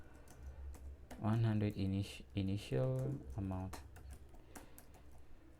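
Someone types on a computer keyboard during a programming session, with light rapid key clicks ticking along under steady talking.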